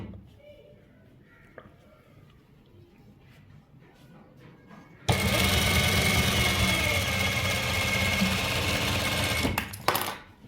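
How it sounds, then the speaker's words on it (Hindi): A sewing machine stitches the reverse side of a gents' trouser pocket, starting abruptly after quiet handling and running in a loud, fast, continuous whir for about five seconds close by. "अब हमने जेब के उल्टी तरफ से यूं रख के सिलाई लगानी है।"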